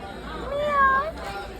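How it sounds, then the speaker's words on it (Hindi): A black cat gives a short rising meow indoors, faint and thin against steady background noise and murmuring voices. "अब म्याऊं कहाँ से आ गई?"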